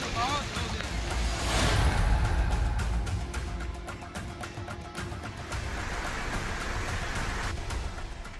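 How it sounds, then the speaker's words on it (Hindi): Heavy torrential rain in Surat, Gujarat, pouring steadily as a dense hiss of drops on surfaces, with a voice talking over it throughout. "सूरत शहर में भी शुक्रवार तड़के से ही मूसलाधार बारिश का दौर जारी है।"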